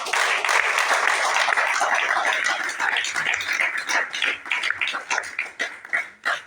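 A church congregation applauding and cheering for Jesus, with steady clapping and voices that start as a dense roar and then thin into scattered claps that fade.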